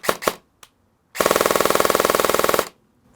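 A VFC HK MP7 airsoft electric gun runs on an 11.1 V Titan battery, firing two quick single shots and one short pop, then a sharp close full-auto burst of rapid, even cycling lasting about a second and a half.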